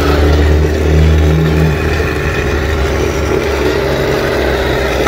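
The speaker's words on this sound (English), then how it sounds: "the gearbox have no problem spinning that in a neutral turn" Motor and gearbox of a Tongde 1/16 scale RC Centurion tank driving a neutral turn, a steady close whirring drone with low-end hum that holds evenly for about five seconds, with no talking.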